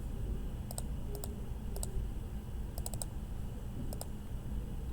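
Keys on a calculator are pressed to enter numbers, giving sparse light clicks in small clusters of two or three taps over a steady low background hum, with no speech.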